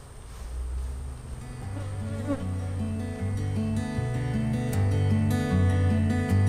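Honey bees buzz in a dense, close swarm as they are shaken from hive frames, a continuous droning hum of many wings that grows steadily louder and more layered.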